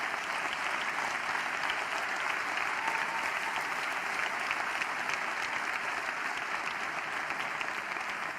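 Sustained, dense applause from a large audience at a political speech in Spain, loud and steady throughout with no break.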